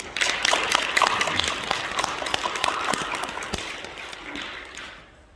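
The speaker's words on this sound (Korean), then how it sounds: "이 모든 영광을 박수로 하나님께 올려드리겠습니다" Applause from the audience at a graduate school commencement ceremony, dense clapping that runs steadily and then thins out toward the end.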